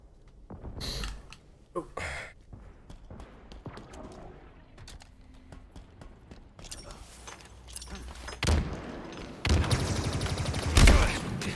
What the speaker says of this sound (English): Enemy has an S7 sniper.